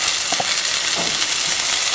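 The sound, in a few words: onion sizzling while frying in a pan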